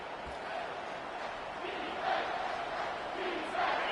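A stadium crowd at a college football game between Arizona and Wyoming roars as a broad, sustained wash of noise that swells twice in loudness, with no commentary spoken over it.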